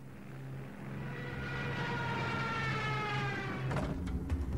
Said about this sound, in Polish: Niemcy wyposażyli swoje Stukasy w syreny, więc w trakcie nurkowania charakterystyczny dźwięk nadlatującego samolotu był wzmocniony.